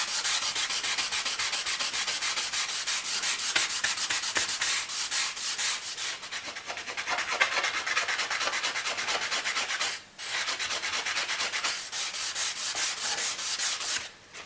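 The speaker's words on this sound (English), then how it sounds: "the next step was easiest done with a sort of a soft, squishy sanding block and a bit of 240 grit paper" A soft, squishy sanding block with 240 grit paper rubs steadily back and forth over a workpiece, close and loud in a fast continuous rhythm of scratchy strokes, pausing briefly once before resuming.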